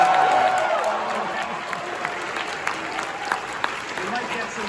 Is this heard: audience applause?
yes